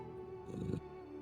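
A cat purrs loudly right beside the microphone, a steady low rumbling drone that swells briefly in the middle, with no talking over it.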